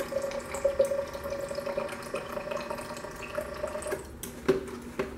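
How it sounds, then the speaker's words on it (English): A Baby Brezza formula maker runs water into a baby bottle, giving a steady close trickle over a low machine hum, with a few brief clicks near the end. "So now it's filling up the bottle with water."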